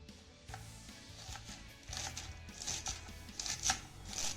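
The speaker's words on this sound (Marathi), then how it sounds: "त्यानंतर हे देठ देखील आपल्याला बारीक असे चिरून घ्यायचे आहेत" A knife finely chops peeled taro leaf stems on a board, producing a series of soft, irregular cutting taps that come close and quiet, with some faint rustling between strokes.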